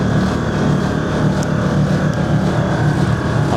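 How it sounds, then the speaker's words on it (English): An air compressor on a custom GMC Sierra 1500 pickup runs continuously, a loud, steady mechanical drone and hum close by with no pauses or talk. "I left that compressor turned on."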